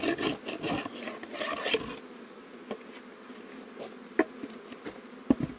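Buckfast bees crossed with Africanized bees buzz close by at a hive during a transfer to a standard box, a steady insect drone with scraping and rubbing on wood and a few sharp clicks.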